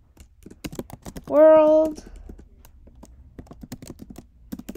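Rapid typing on a computer keyboard while writing C++ code, producing a steady run of close, crisp key clicks throughout, with a brief spoken word partway through.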